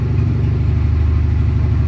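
Honda K20-swapped EK sedan idling rich, a steady, loud, close-up engine rumble with an even pulsing beat and no speech.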